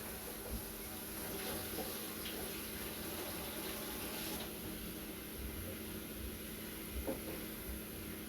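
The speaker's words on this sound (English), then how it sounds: "I'm just using the sink over there. I'm not going to scrub it or anything, I'm just going to rinse it out real quick." Water runs steadily from a sink tap while a pan is rinsed beneath it, a continuous close splashing hiss with small clanks throughout.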